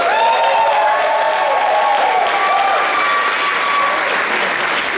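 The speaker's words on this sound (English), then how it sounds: "Please give him a round of applause." Loud, dense audience applause at a school district convocation for the superintendent, sustained throughout with some cheering mixed in.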